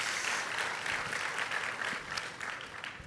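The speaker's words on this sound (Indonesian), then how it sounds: "Berikan tepuk tangan kita untuk Tuhan kita." A church congregation applauds during a service, a steady, dense wash of many hands clapping at moderate distance, sustained evenly throughout with no voices rising above it.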